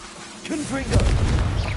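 A Confringo blasting spell goes off in Hogwarts Legacy: a voice speaks briefly, then a deep, rumbling explosion swells and lingers loudly in the low end.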